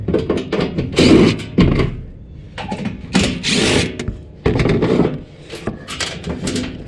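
Screws being backed out of the air baffle on a Trane furnace during a heat exchanger replacement produce loud, close bursts of power-driver whirring, several separate runs of a second or so with short pauses between.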